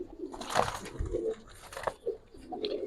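Giribaz pigeons coo close by in soft, throaty bursts at an irregular pace, several calls overlapping over faint background noise.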